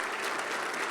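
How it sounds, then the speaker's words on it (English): Dense, steady applause from a crowd at an Urban League Salute to Women in Leadership event fills the whole moment evenly, with no voices standing out. "Please join me in a thunderous round of applause for her"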